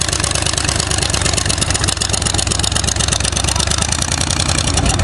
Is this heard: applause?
no